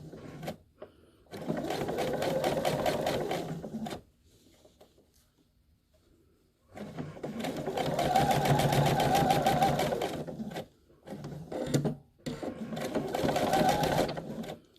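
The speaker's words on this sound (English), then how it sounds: "And you're going to put that under your machine, 1/8 of an inch, no more than 1/8 of an inch from the edge." A sewing machine top stitches close to the edge of a flannel doll pillow, running in three steady bursts of rapid mechanical stitching with short quiet pauses between them.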